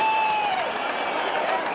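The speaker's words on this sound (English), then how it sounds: "Some cheer in the crowd." Crowd at a celebrity cricket league match between Karnataka Bulldozers and Telugu Warriors cheering and whooping in a broad, sustained roar, fairly distant, with a whistle-like tone rising through it.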